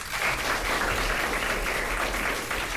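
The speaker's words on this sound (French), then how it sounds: "On peut l'applaudir, s'il vous plaît?" Audience applause at a French youth speaking event, a steady, even wash of clapping that holds at a moderate level throughout with no voices over it.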